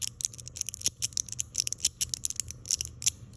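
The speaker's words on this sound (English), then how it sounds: "now listen, here's the Clicky. There's still clicks" A 3D-printed clicky fidget slider snaps back and forth in quick irregular bursts of sharp, bright clicks, close and fairly quiet against a near-silent background.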